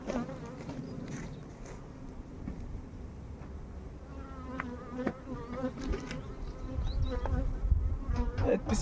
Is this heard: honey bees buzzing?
yes